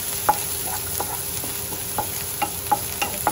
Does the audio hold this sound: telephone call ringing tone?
no